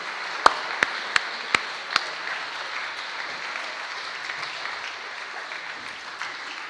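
Applause for the musicians after a musical Protestant service in a Strasbourg church: a crowd clapping steadily in a reverberant room, with a few sharp, loud claps standing out near the start.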